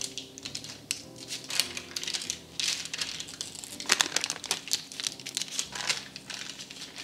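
Parchment paper crinkling as it is peeled off a slab of set chocolate walnut fudge, close, crisp rustling and crackling in irregular bursts throughout.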